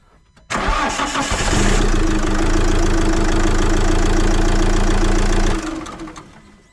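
A Fiat Ducato van's engine cranks and fires, then settles into a loud, steady diesel-like idle with a knocking rumble for several seconds before shutting off, with no other sounds.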